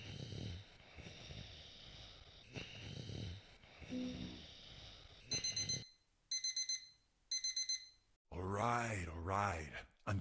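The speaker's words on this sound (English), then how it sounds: "Bloody alarm." Alarm clock in a Minecraft horror map video game, ringing in several short repeated bursts of bright electronic beeping, loud and close, broken by snoring before it and a voice after it.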